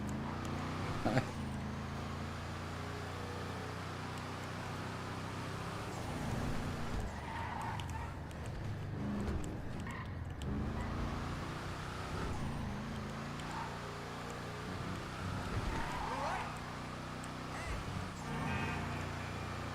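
A Declasse Voodoo car in GTA 5 drives with a steady low engine rumble and road noise throughout, with brief tire and horn-like bursts over the continuous drone.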